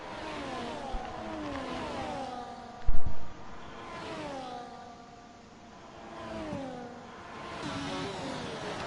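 Formula 1 cars racing in F1 24 at Miami, engines whining as they rise and fall in pitch through gear changes, a sharp thump near the middle, and no talk over the steady roar.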